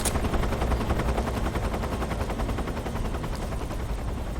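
Rapid, sustained gunfire from a pistol in Metal Gear Solid 3: Snake Eater, a dense continuous volley of loud shots with no pauses, filling the whole stretch.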